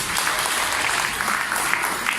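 Wedding guests at a celebration in Shymkent applaud together in a steady, dense clatter of clapping that carries evenly from start to finish, with no voices rising above it.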